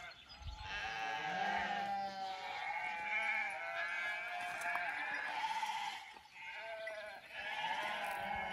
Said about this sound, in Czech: Tak děti, a jak dělá ovečka?